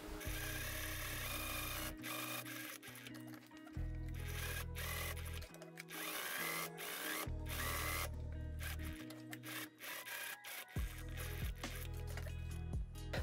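A sewing machine topstitching a Barbie-size trench coat, its motor running in several bursts of rapid mechanical whirring separated by brief pauses, close and steady, with no talking.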